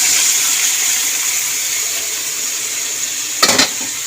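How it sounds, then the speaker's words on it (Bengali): Boiled stalks and their water are poured into a wok of frying pumpkin-leaf vegetables, giving a loud continuous sizzle with a short splashy burst near the end, no talking. "এবার আমি এই ডাটা সেদ্ধটা ঢেলে দেবো জল সমেত।"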